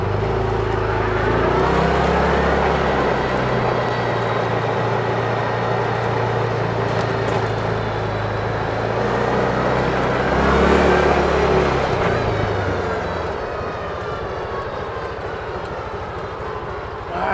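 A Massimo T-Boss 550 UTV engine drones steadily as the vehicle drives off, with a low, continuous rumble that swells briefly near the middle and eases toward the end.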